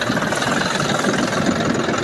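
A tractor engine idles while threshing chickpeas on a farm, a steady, rough mechanical rumble with a dense mid-range churn that runs continuously throughout, with no voices.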